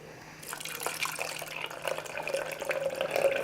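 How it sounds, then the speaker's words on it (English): Chickpeas and their cooking water poured into a metal sieve, a continuous splashing stream that builds louder toward the end, with small drips and clatters and no voices. "But I will just pour some chickpeas in there"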